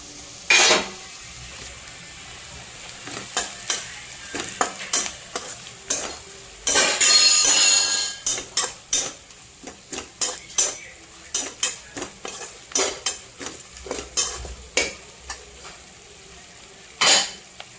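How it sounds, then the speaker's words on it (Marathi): Garlic, coconut and onion masala frying with onion-garlic chutney, stirred in a pan with a metal spoon: repeated sharp scrapes and clinks over a low steady sizzle, a burst of louder frying near the start and middle. "लसूण खोबरं कांदा वगैरे चांगला फ्राय झालेला आहे. तर आता मी त्याच्यात घालणार आहे कांदा लसूण चटणी"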